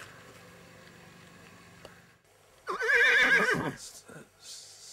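A horse whinnies loudly and close for about a second, after a quieter stretch of low background noise, with a brief softer follow-up snort.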